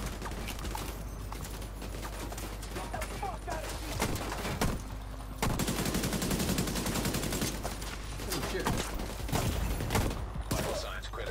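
Dense in-game gunfire from The Division 2, with rapid automatic bursts and scattered shots running through the whole stretch, loud and continuous, with game sounds and voices mixed in.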